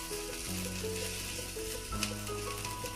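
Ginger and oil sizzle steadily in a pan, a dense, even frying hiss with faint crackles running throughout, close and continuous with no talking.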